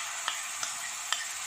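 Roasted semolina cooks over low heat in a pan with garlic and green chilli paste, giving a steady soft close sizzle with a few faint ticks from stirring, and no voices.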